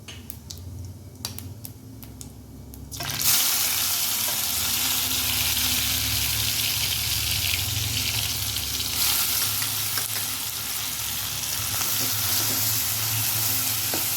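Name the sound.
sautéing onion, tomato, green chili and garlic in oil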